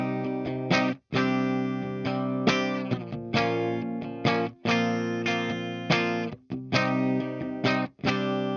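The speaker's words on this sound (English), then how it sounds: "I'm running my Balaguer Guitars Ether in drop C into amped Oracle" A Balaguer Ether electric guitar in drop C tuning, played clean through an Oracle amp, chords struck in a steady rhythm with short gaps between ringing, sustained strums.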